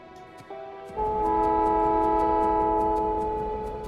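Trains in the Factorio video game rolling through a rail network, with a loud sustained chord of horn-like tones that swells in after a brief lower passage and holds steady over a low rumble, with no talking.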